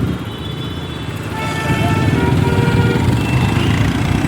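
A delivery rider's two-wheeler ridden through heavy traffic: a steady, loud engine drone and road rumble that grows louder and denser partway through, with faint horn tones above it.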